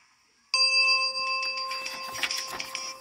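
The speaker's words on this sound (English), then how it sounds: "remember to turn the page every time you hear the chime." A bright, bell-like chime for turning the page on a 1987 Popples book-on-tape, ringing in sharply after a moment of quiet and sustaining with a shimmering, tonal decay through to the end.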